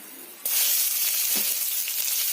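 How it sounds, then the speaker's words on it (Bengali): Chopped onions hit a hot pan and burst into a steady sizzle of frying, close and continuous, with a slight stir partway through and no voices. "পেঁয়াজগুলোকে একটু ভাজা ভাজা করে নিতে হবে"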